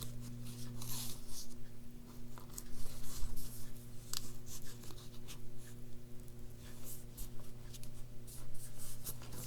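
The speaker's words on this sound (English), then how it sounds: "you're just going to want to fold each side up" Paper being folded and creased by hand with a bone folder during card making, producing soft scraping, rubbing and rustling strokes over a steady low hum, no voices.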